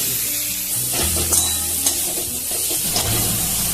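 Chopped onions sizzle steadily in a hot kadai for a masala dosa filling, a continuous close frying hiss with a few soft stirring knocks, no voices.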